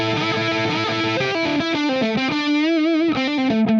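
A full lead lick on overdriven electric guitar, with rapid notes giving way to a wide vibrato bend, played loud and upfront without any voices.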